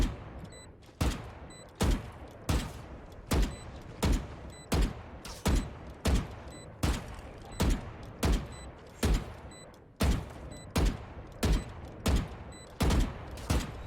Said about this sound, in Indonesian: Tembak semua nih.